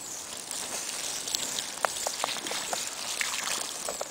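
Water poured over a smoldering campfire in a forest bushcraft camp, a steady trickling and hissing wash with scattered sharp drips and splashes, close and fairly quiet, with no talking.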